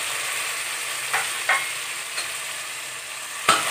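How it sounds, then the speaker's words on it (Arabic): Shrimp frying in oil for a seafood soup make a close, continuous sizzle, with a few spoon taps and scrapes against the pan and a sharper clank near the end, and no talk. "والجمبري في الزيت"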